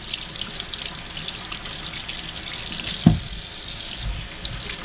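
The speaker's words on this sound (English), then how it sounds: "I always give mine a little bit of rinse off." Potatoes are rinsed under a running kitchen tap, a steady hiss of water into the sink with a brief splash and knock partway through, close and alone.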